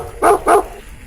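A dog barks twice in quick succession, loud and close, followed by a quiet pause.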